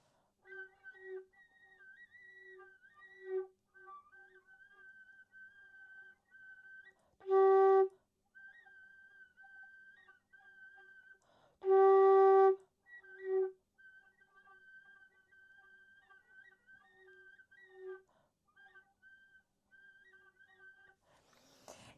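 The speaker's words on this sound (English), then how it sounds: "that is what we call a whistle tone" A flute whistle tone played with very little but steady air, a thin, faint sustained pitch wavering in and out over about twenty seconds, broken by two brief louder bursts midway.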